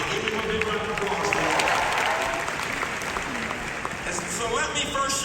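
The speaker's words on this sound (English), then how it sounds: "Give him a big round of applause." A large graduation crowd at UMBC gives a steady, sustained round of applause for a graduate enlisting in the Army, with clapping and faint voices running through the whole stretch.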